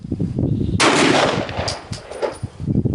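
A Glock 34 pistol firing a 9mm Federal HST round, heard as one sharp, loud report followed by a brief ringing decay and low background noise.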